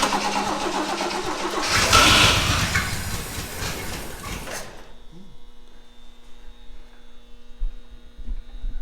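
A fire-damaged 1965 Rambler 770 convertible's engine cranks hard for several seconds, loud and close, then stops, leaving a low steady hum and faint background noises.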